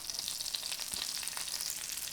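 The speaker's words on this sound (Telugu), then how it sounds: "ఎల్లిపాయ చక్కగా వేగాలి, దోరగా వేగితే బాగుంటుంది." Garlic and curry leaves fry in hot oil, giving a soft, steady sizzle with faint crackles throughout.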